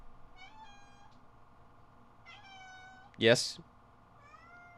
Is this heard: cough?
no